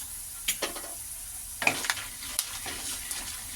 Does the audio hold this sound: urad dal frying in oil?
yes